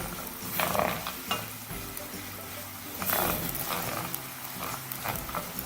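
Onions frying in a pan with ginger garlic paste for chicken jalfrezi, a steady sizzle broken by several scraping stirs, close and moderately loud with no talking.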